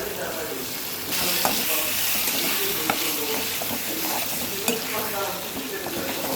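Raw tamarind tossed into a hot tempering for tamarind chutney, sizzling steadily with scattered stirring clicks and scrapes, a constant close hiss running throughout.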